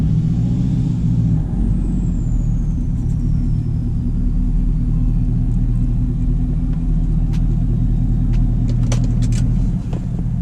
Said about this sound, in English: this is how you back up a 10-foot wide truck into a driveway.